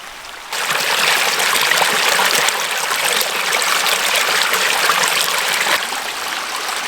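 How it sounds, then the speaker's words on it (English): A babbling creek runs over rocks beside the Tumbling Run Trail on the Appalachian Trail in Pennsylvania, a close, continuous rushing and gurgling of water that swells in after a quieter start. "The moss and the babbling creek."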